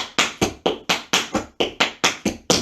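Tap shoes beating out paradiddles in a beginner home tap class, a steady run of about ten crisp, close, evenly spaced taps with nothing else heard.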